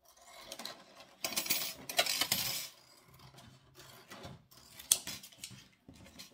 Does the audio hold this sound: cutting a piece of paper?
yes